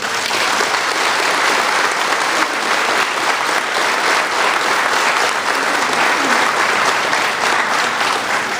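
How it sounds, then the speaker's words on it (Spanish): Sustained applause from an audience at a Morena political event in Vegas de Soledad, loud and steady for the whole stretch with no talk over it. "nuestro compañero Esteban Argüelles Ramírez, para quien pido un aplauso"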